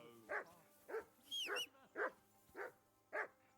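A dog in Kingdom Come Deliverance II gives six evenly spaced, clear barks at moderate distance, one of them rising into a short high yip, with quiet pauses between them.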